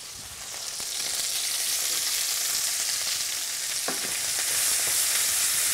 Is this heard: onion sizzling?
yes